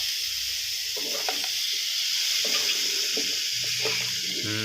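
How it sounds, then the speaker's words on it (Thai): Chicken with red curry paste and pickled bamboo shoots stir-fried in a hot pan, giving a steady sizzle with intermittent scraping and clanking of the spatula throughout. "ผัดคลุกเคล้าให้ทั่วเลยนะครับ"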